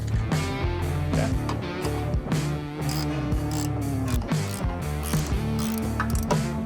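Rapid ratchet clicking as bolts are run down on a Prinsu ladder clamp bracket for a 5th-gen Toyota 4Runner, loud and close, continuous pawl ticks with short pauses and shifts in pitch as the wrench swings.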